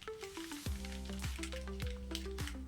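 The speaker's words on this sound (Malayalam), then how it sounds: "ഏകദേശം കടുകൊക്കെ പൊട്ടിയിട്ടുണ്ട്" Mustard seeds and fenugreek crackle and pop in hot oil for a sambar tempering, a busy close-up sizzle with rapid snapping bursts throughout. Faint background music plays under it.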